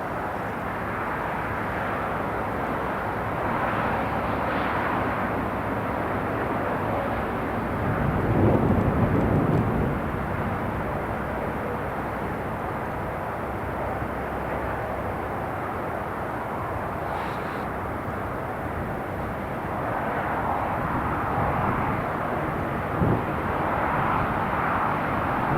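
A British Airways airliner landing at Newcastle Airport, a steady broad jet roar at moderate distance that swells briefly midway and holds without speech.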